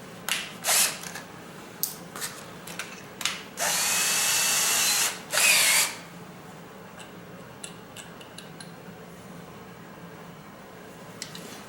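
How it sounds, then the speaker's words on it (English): A power drill with a bit bores into metal during clutch basket work on a Honda XR650R: several short bursts, then two sustained loud runs of whine, with light clicks and handling noises in a quiet workshop. "put a little oil on there so you don't burn out the drill bit"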